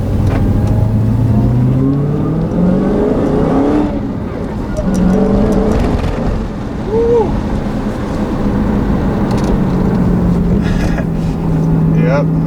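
A 2016 Dodge Challenger Hellcat with a six-speed manual accelerating hard on a country road, a loud deep engine roar rising and dropping through gear changes from the cabin, steady throughout.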